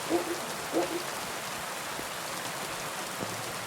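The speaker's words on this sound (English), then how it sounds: "it's so hard to see with this rain" Steady rain hisses across a dark outdoor scene in Kingdom Come Deliverance 2, a constant broadband wash with a couple of brief louder patches near the start and no talk over it.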